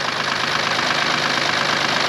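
A diesel BMW engine, just started after an injector and seal install, runs steadily at idle with a loud, continuous broadband clatter and no voices.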